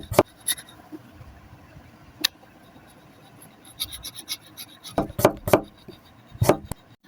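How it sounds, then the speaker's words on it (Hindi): Potatoes being chopped into chips with a knife on a board, irregular sharp taps, a few early and a quick cluster near the end, close and crisp. "चलो मैं चिप्स की तरह आलू को काट लेती हूँ।"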